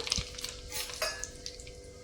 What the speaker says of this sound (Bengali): বাদামটা আমি তেলের মধ্যে দিয়ে দিলাম